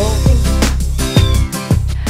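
Stray cat meowing loudly and close, several drawn-out calls in quick succession over a steady low background hum, with no talking.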